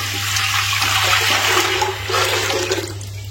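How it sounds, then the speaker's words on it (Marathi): Water rushes steadily from a tap into a pot for boiling, a full, continuous gushing that changes pitch slightly as the pot fills. "मी हे भांडं भरून घेतलं तर पाणी उकळायचं"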